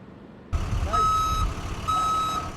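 A truck's reversing alarm sounds two clear, sustained electronic beeps, each about half a second long and spaced roughly a second apart, over a low engine rumble at a truck stop.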